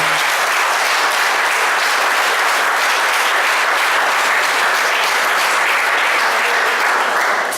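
A church congregation claps for the Lord during a family service, producing a loud, dense, continuous wash of applause from many hands that holds steady from start to finish.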